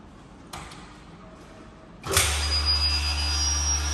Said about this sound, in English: Now we can hear the voice of the vacuum pump